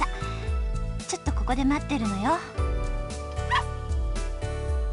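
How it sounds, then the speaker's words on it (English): A puppy in the visual novel Never7 gives a string of high-pitched yips and whimpering barks over a steady background music track. "The dog wags its tail back and forth and starts barking its high-pitched voice."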